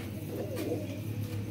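Sialkoti pigeons cooing softly in a loft, low steady coos running continuously at moderate volume with faint background hum.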